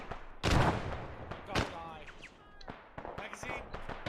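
Grenade blasts in the video game ArmA, set in a Cold War covert operation: a loud, booming burst near the start, then further sharp thuds and cracks, with radio-style chatter and game noise continuing between them.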